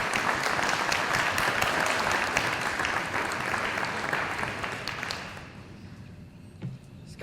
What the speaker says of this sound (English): Hey, it's okay to applaud, by the way.